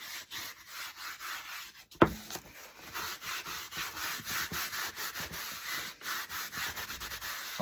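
Paint being rubbed back on cardboard carrot decor, a steady scratchy rubbing that repeats in quick strokes, fairly close, with one sharp knock early on and no talking.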